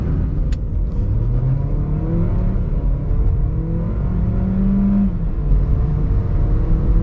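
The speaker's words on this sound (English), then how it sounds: "This ability of the Polo to accelerate like a bat out of hell is why we all love it." A Volkswagen Polo GT TSI hatchback's engine revs up hard, the pitch rising repeatedly through the gears, loud and close with a rumbling undertone.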